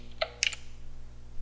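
Typing on a computer keyboard: a few quick, close key clicks in a short burst over a steady low hum, with no talk.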